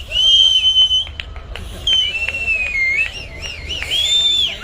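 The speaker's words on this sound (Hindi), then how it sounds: "सीटी मैं जा बजा के दिखाता हूँ" At a lively blasting event, loud, shrill whistling comes from close by in several long, wavering blasts separated by short pauses.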